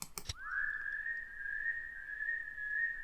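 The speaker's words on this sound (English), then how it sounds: "He whistles." A boy whistles a single long, steady, clear tone that holds close and fairly loud after a few brief clicks at the start, with no talking.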